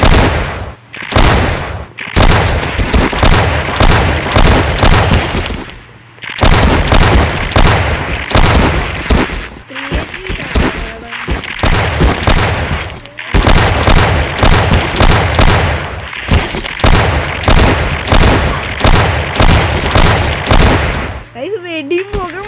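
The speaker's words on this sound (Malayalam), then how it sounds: "വെടിയും പുക മാത്രമേ ഇവിടെ." Gunfire in a Minecraft horror mod game of war against a Siren Head: long, loud bursts of rapid shots and booms run almost continuously, broken by brief pauses, with voices talking over them.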